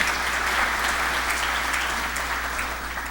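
An audience in a lecture hall applauds to welcome a speaker, steady dense clapping that holds for several seconds and slowly fades near the end.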